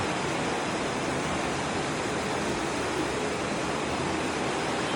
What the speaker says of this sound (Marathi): हा नदीचा प्रवाह